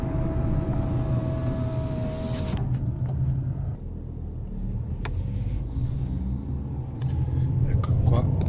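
A Fiat Panda driving slowly with the window down, steady low engine rumble and road noise filling the cabin, with a brief dip in the middle and a rise in engine tone toward the end.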